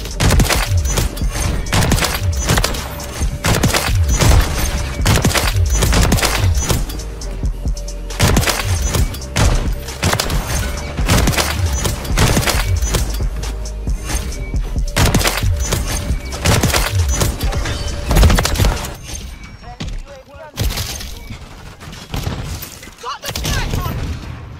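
Sniper shooter video game gunfire rings out as sharp, loud shots and rapid volleys repeated throughout, with cracking, splintering impacts and some speech mixed in, tapering off near the end.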